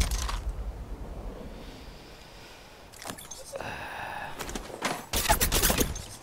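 Bursts of gunfire ring out during a fast match of Apex Legends Mobile, with sharp broadband volleys clustered near the end and a quieter stretch of game ambience between them.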